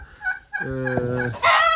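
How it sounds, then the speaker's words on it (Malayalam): Native chickens give a short burst of nasal, harmonic calls, close and fairly loud, followed by a sharper higher cry at the end. "നാടൻ കോഴികൾ നാടൻ കോഴികൾ"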